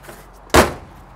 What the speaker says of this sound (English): Door closes, look at that.